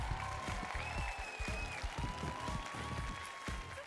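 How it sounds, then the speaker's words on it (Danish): Enthusiastic applause for contestants at an FDF scout national camp, dense rapid clapping from a sizeable audience continuing steadily and loud throughout. "Og så klap lige ordentligt af dem"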